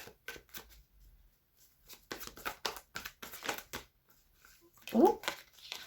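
Tarot cards being shuffled and drawn, with soft papery riffles and slaps coming in several bursts, close and fairly quiet, between stretches of near silence.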